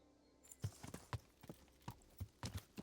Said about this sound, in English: Radzig's horse.